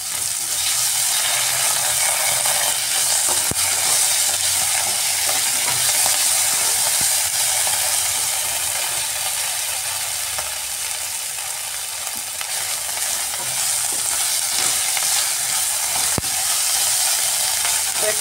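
Onions with a spoonful of ginger garlic paste fry in a pan for an omelette curry, giving a steady, close, loud sizzle with a few faint scraping stirs and no voices.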